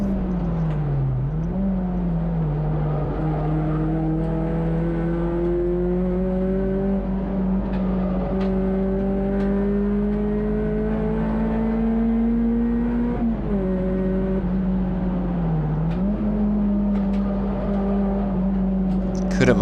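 A touring race car laps Cadwell Park circuit in a CSCC Tin Tops race, its loud onboard engine droning and rising in pitch through the gears with brief dips at gear changes, steady and close throughout.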